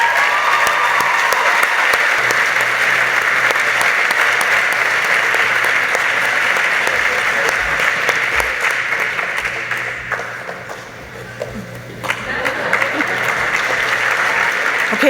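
Evening scholarship ceremony crowd at the Ronald Reagan Presidential Foundation Scholars Program gives sustained, loud applause for student winners, a dense steady roar of clapping that briefly dips before swelling again.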